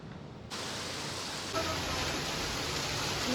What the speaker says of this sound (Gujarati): બહુ ધોધમાર વરસાદ આવે છે